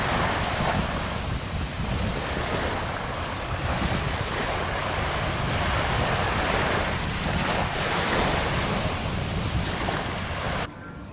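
Ocean waves wash onto a beach at the W Koh Samui resort in Thailand in the evening before sunset, a continuous loud roar of surf with heavy wind buffeting the microphone throughout.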